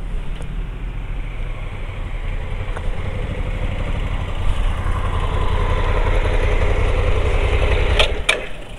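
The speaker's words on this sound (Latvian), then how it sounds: "Sirds ar asinīm aplējās, kad svešs cilvēks brauc ar motociklu." A motorcycle running close by during a roadworthiness inspection in Latvia, its steady engine drone holding throughout and swelling slightly toward the end before a few sharp clicks.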